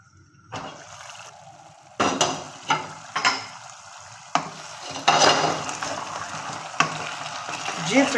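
Mixed vegetables cooking Chinese style in a pan sizzle and fry, with soft crackling, water hiss and several sharp utensil clanks and stirs against the pan at irregular intervals, close and moderately quiet.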